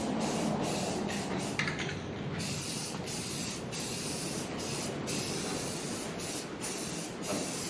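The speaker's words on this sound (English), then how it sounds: "Y'all can probably hear that wind. The wind is getting it on outside right now." Steady, loud rushing wind noise fills the whole stretch, a broad continuous roar with slight gusty fluctuations and no voices.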